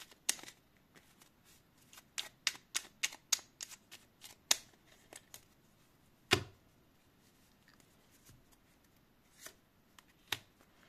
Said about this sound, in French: Je vais tirer une petite carte conseil supplémentaire.